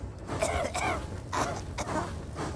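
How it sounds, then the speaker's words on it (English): An animated train engine character coughs from smoke: repeated harsh coughing and throat-clearing bursts, several in a row at close range, with no talking. "he was coughing and spluttering"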